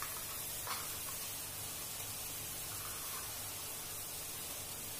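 Ginger garlic paste fries in a pan with softened onions while making spicy Nashik misal, giving a steady, quiet, even sizzle with no voices.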